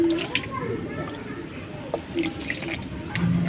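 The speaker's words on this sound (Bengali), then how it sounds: "রসটা পুরোটা ঢেলে নেব" Chilled watermelon juice pouring from a container into a hollowed watermelon rind, a steady liquid splash and trickle close by that runs the whole time, with brief clinks and a voice speaking over it.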